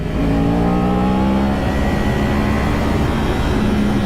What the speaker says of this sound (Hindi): भाई 10R को पेल रही है भाई, पहले गियर में ये बहुत पावर है भाई।